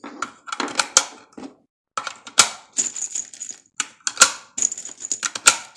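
Rounds of 300 Blackout are pushed one after another into an IMI Defense Gen 2 rifle magazine, giving a close, crisp series of metallic clicks and snaps in an uneven rhythm with brief pauses between rounds.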